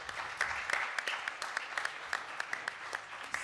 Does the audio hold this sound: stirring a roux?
no